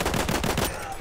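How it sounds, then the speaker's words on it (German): Rapid gunfire in the multiplayer shooter Battlefield 1, a quick run of several evenly spaced shots that stops partway through, leaving a quieter tail. "Komm, da gibt's den Schuss"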